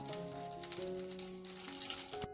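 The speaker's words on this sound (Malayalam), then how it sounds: "ചൂടായ പാനിലേക്ക് കുറച്ച് ബട്ടറാണ് ഒഴിച്ചു കൊടുക്കുന്നത്" Butter sizzles in a hot pan before a wheat paratha goes in, giving a steady, fairly soft crackling hiss that ends with a sharp knock.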